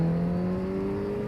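A Bimota KB4 1000 cc motorcycle engine pulling steadily around 4000 rpm, a loud, close, even drone with a slowly rising tone and no speech.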